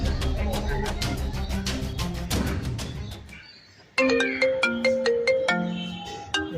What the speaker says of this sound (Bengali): এখন আবার কে ফোন করে?